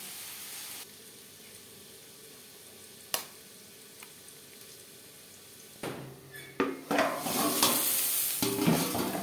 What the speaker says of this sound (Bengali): দুটো ডিম বেশ ভালো করে পেঁয়াজের লঙ্কার সাথে ফেটিয়ে নেব